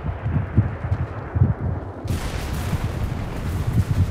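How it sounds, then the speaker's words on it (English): A tank blown up in a video game battle, heard as a run of deep booming thuds and rumbling blasts, loud and close, with the noise suddenly widening into a broad crackling roar midway through. "I just blew up a tank right in front of him"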